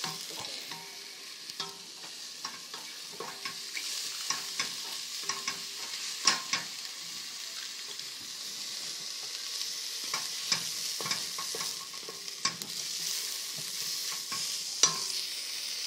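A spoon stirs a pot of mushroom curry over steady low frying, with scattered scrapes and clicks against the pot throughout, close and moderately loud, with no talk.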